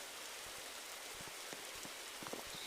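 Rain falls in a forest survival video game, a steady, fairly faint patter of drops over a constant wash of noise, with a few slightly louder drop ticks and no speech.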